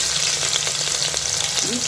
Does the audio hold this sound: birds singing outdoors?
no